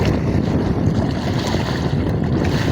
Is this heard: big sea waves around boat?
yes